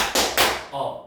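Students in a classroom clap together in a few sharp, close strikes that blur into a short burst, with one louder clap near the middle and no voices over them.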